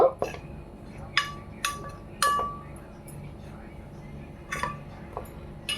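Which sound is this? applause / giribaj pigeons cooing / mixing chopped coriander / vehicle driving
mixing chopped coriander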